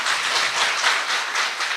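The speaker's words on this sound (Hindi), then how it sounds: "ताली बजा दो भाई अपने लिए।" An audience at a spiritual talk claps for itself, a dense, steady round of applause from many hands at moderate distance, with no voices over it.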